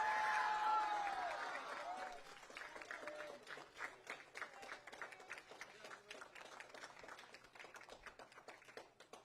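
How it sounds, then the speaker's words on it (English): An audience applauds middle school esports champions at a Hawaii finals event, with a brief burst of voices at the start. The clapping is moderately distant and gradually thins and fades into scattered claps. "Everyone, please give a big round of applause and congratulations to Kawananakua Middle"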